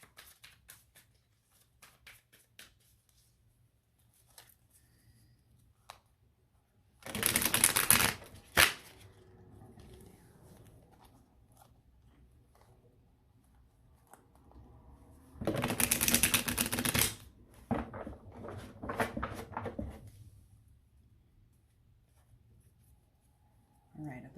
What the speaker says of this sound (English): I just want to do one more shuffle